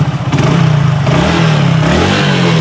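A new motorcycle engine revs up close and loud. A throbbing, pulsing note rises and falls in short surges, with some mechanical clatter over it.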